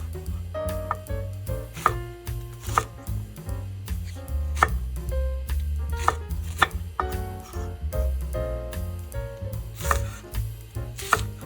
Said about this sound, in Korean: 사각썰기로 작게 잘라줍니다